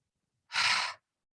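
A single forceful breath out through an open mouth after breathing in through the nose during a yoga practice. It is one short, breathy whoosh lasting about half a second, close to the microphone, with silence before and after.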